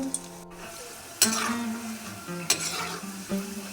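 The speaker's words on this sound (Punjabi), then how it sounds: "ਦੂਜਾ ਬੈਚ ਵੀ ਅਸੀਂ ਕਰ ਲਿਆ ਜੀ ਫਰਾਈ" Moong dal pakoras frying in hot oil give a steady sizzle, broken by a few sharp scrapes and clinks of stirring in the pan. No one speaks.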